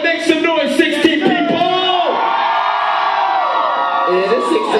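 A small concert crowd of about sixteen people cheering, whooping and yelling loudly in response to a performer, high shouts and whistles layered over one another throughout.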